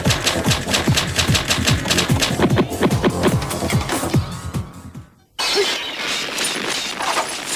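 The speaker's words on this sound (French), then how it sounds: "Je casse la vitre, oui." Glass shatters in a long, loud cascade of cracking and tinkling shards, then cuts off abruptly before a duller noisy background resumes.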